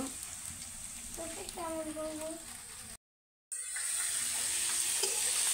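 An egg frying in a pan for noodles on a home stove, a steady soft sizzle with light crackle running throughout, briefly cut off midway, with a faint voice in the background early on.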